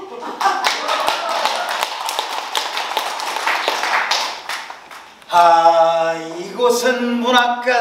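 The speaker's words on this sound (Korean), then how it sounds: "잘생긴 웨이터 탭댄스 발재간을 부리며" A waiter character tap dancing on stage in a 1930s literary-café theatre piece: crisp, rapid shoe taps for about five seconds, then singing with music takes over.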